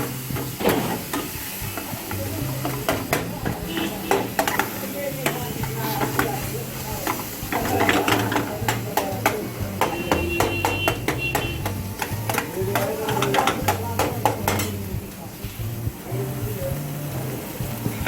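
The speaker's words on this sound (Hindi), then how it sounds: "तड़का ऑलमोस्ट रेडी है।" Tadka of tomato, turmeric and red chili powder frying in a pan for street-style masala Maggi, a steady loud sizzle with sharp clicks and scrapes of a spoon stirring throughout.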